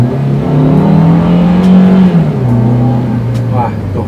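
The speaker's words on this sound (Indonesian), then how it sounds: "ini kedengaran suara mesinnya kayak gini gitu" The engine of a 2018 Daihatsu Terios R Deluxe automatic hums steadily and rises in pitch as it accelerates, heard from inside the cabin, loud and continuous throughout.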